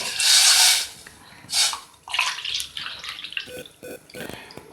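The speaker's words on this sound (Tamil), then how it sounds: "2 கப்பு தண்ணி ஊற்றியாச்சு." Two cups of water splash and pour into a cooking pan in short bursts, a loud gush at first followed by smaller trickles and drips close by.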